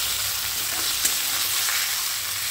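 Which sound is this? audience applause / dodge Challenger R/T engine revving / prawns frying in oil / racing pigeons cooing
prawns frying in oil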